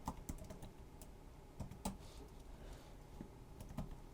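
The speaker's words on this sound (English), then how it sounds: "I'm typing the Robojax ESP32" Quick bursts of keystrokes on a computer keyboard, irregular clicks and taps clustered in short runs, close and fairly quiet with no talking.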